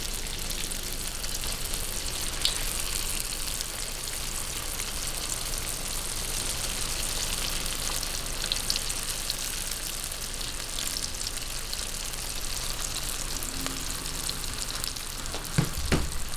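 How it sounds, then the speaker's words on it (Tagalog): Spring rolls of lumpia filled with bean sprouts and vegetables sizzle steadily in hot oil over high heat, a continuous dense crackle with faint bubbling that holds unbroken throughout, with no voices present. "Umpisahan na po natin yung pagpiprito."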